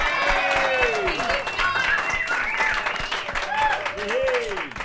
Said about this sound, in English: How about a round of applause for Sara Hennessey?